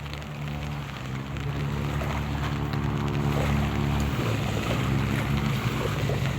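Rain falling over a Philippine village setting where a small boat is mentioned, a dense continuous hiss of drops with steady low rumble throughout, no speech.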